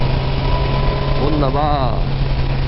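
A Kawasaki Versys 1000 SE motorcycle engine runs steadily while gears are shifted, with a brief rise and fall in pitch partway through. A voice speaks briefly over the engine and wind noise.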